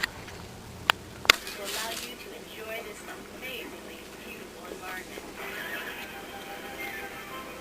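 A horse on a beach whinnies while hooves clip-clop faintly, starting with a couple of sharp knocks and then a low, steady ambient bed underneath.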